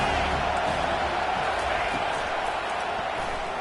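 Stadium crowd in the NCAA 25 college football video game, a steady, dense roar of cheering at a big moment, sustained and fairly loud throughout with no distinct bursts.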